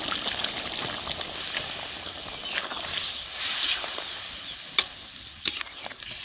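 Chicken curry broth with coriander paste bubbles and sizzles steadily in a hot pan, with a few sharp pops and crackles near the end.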